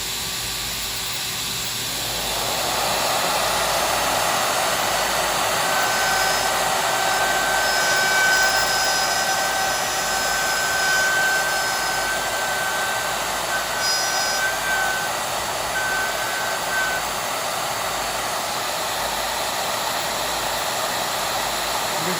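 A Shaper Origin handheld CNC router spins up after a quiet start and cuts a 1/4-inch-deep pocket in steps, giving a loud, steady high-pitched whine and hiss that holds for about twenty seconds.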